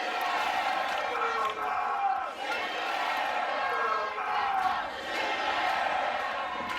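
A crowd cheering at a college softball game between Oklahoma and Wichita State, a fairly faint, distant wash of shouts and whoops that swells and dips, with voices talking over it.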